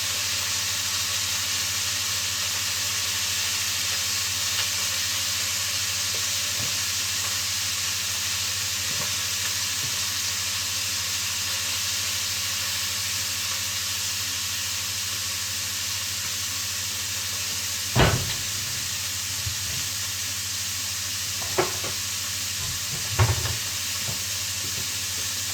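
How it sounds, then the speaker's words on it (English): Meat browning in a pan for a Zurich-style tranché, a steady broad sizzle held throughout at moderate level, with a few sharp spatula scrapes or clanks near the end. "We're going to brown up the meat here."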